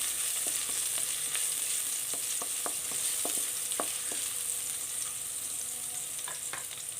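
Crushed garlic and ginger fry in a hot pan for a curry, giving a steady close sizzle with scattered small pops and crackles and occasional stirring, and no talking.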